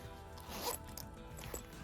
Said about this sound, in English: Zippers work great.